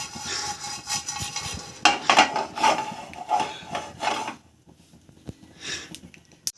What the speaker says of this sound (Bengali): প্রথমে আমাকে মশলাটা ভাজতে হবে, এমনি শুকনো, মানে কোনো তেল দিয়ে না।